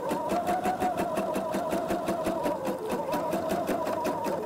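A sewing machine runs a long ease stitch close to a fabric edge, its needle thumping in a fast, even, steady rhythm with a mechanical whir underneath.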